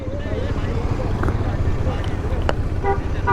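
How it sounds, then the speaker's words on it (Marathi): Vehicles approach along a busy road near Anjanadri hill in Hampi, with a steady engine rumble and short horn toots and honks near the end, close and fairly loud. "गाड्या येत आहेत, सावकाश."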